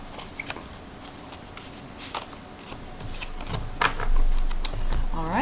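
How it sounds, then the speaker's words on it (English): Tarot cards riffled and shuffled by hand in a series of soft papery bursts and flicks, close and fairly quiet, over faint background noise. "Shuffle the cards."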